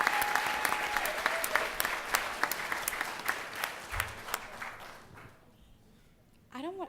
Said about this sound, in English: a round of applause, please, for everybody that got up there